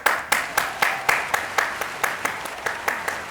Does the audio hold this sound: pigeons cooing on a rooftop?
no